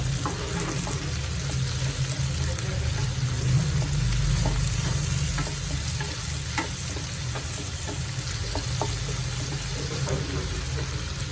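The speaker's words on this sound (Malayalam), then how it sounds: "തക്കാളി നന്നായിട്ട് ഒന്ന് വെന്ത് വന്നോട്ടെ" Tomatoes fry in a pan for a dried fish fry, a steady close sizzle with scattered crackles and occasional stirring scrapes running unbroken throughout.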